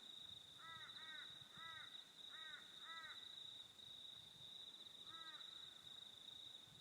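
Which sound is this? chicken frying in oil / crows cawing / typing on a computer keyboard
crows cawing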